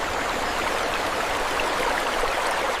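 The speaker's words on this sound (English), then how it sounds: "The gentle sound of the flowing water provides a soothing soundtrack to their rest." A gently flowing stream gives a soft, steady trickling and bubbling, close and even, with no voices over it.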